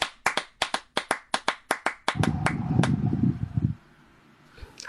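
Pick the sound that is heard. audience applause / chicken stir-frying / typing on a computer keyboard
audience applause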